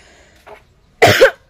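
A single sharp cough rings out close and loud near the end, preceded by a faint short throat sound, with otherwise quiet surroundings and no talking.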